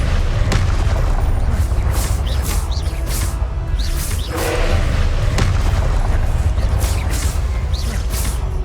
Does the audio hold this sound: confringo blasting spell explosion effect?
yes